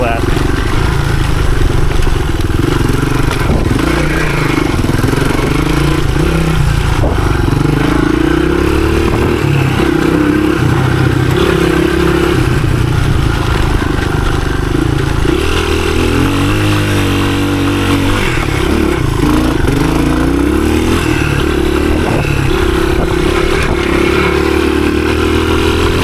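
A 1983 Honda XR200R dirt bike engine chugs at low revs through the woods, a loud, steady thumping drone with small throttle swells and clattering, while a rider talks over it.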